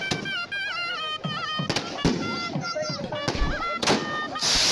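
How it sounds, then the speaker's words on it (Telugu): Firecrackers go off at a Mukkoti Ekadashi temple festival procession in Parnasala, with palanquins halted near the bus stand; several sharp, loud bangs burst at irregular moments over continuous wavering music or voices. "బాణసంచా పేలుస్తున్నారు."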